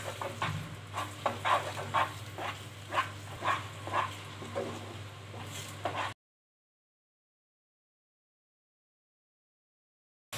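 Mango jelly barfi mixture cooking with ghee in a pan, with a soft continuous sizzle and irregular stirring scrapes for about six seconds before it falls silent.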